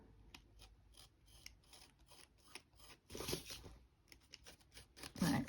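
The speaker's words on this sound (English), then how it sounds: "just take my craft knife and just get rid of that" A craft knife trims excess card while making a DIY postcard. It gives a run of quiet scraping and cutting strokes that grow louder and denser toward the end. No one speaks.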